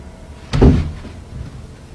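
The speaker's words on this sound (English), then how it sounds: "she hears what seems like footsteps, followed by the door sound again" A single muffled thump of a door closing, followed by a softer knock a moment later, close by against a quiet background.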